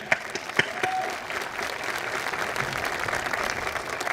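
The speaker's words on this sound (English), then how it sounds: "So clap it up." A graduation audience at Malverne High School's 2025 ceremony breaks into sustained applause, a dense, even wash of many hands clapping that holds steady throughout.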